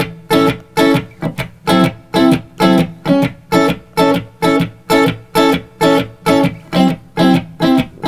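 An electric guitar strums a quick-change blues rhythm in steady, evenly spaced chord stabs, loud and close with a slightly driven tone and no voices.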